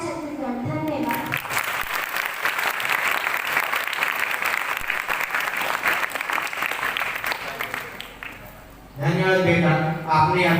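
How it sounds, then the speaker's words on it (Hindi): Sustained applause from a school audience at a middle-school impromptu speech competition, steady clapping for about eight seconds before a voice starts speaking at the end. "इस बच्ची के लिए एक बार फिर से तालियां।"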